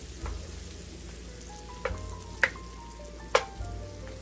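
Butter melting and sizzling in a cooking pan for a roux for a crawfish and crab étouffée, a steady close frying hiss with a few sharp pops and clinks of a utensil against the pan.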